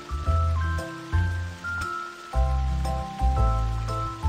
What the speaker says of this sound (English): Kid, spray water under sunlight.